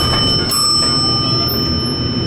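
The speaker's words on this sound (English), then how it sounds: "you can also ring the bell" A bell rings inside an old Eastern hydraulic elevator, its bright, sustained metallic tone lingering over a steady low hum of the car.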